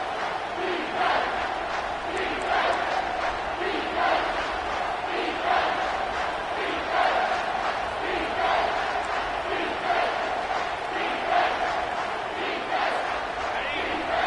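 Stadium crowd noise from the NCAA 25 college football video game, a steady loud roar with rhythmic swells and chanting as the defense tries to hold in the red zone, continuous throughout.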